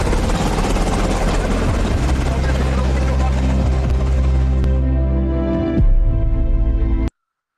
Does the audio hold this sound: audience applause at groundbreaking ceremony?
no